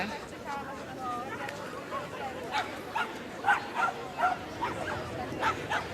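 A miniature bull terrier gives a series of short, sharp barks and yips at an agility competition, the bursts coming every half second or so over steady crowd chatter and background talk.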